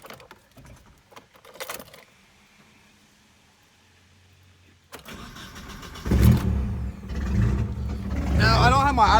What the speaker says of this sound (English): I'll start the car up for you guys real fast.